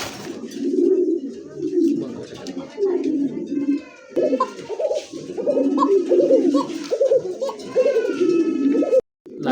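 Pigeons cooing in a loft at a pigeon market, repeated throaty coos from several birds close by, rolling on almost without pause and joined by occasional higher calls, with someone speaking in the background.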